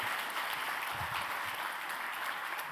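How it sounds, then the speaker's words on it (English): At the close of a supply chain summit panel, the audience applauds the keynote speaker and panelists with a quiet, distant, steady patter of many hands that holds evenly throughout. "can I request another round of applause for our keynote speaker and the rest of the panel"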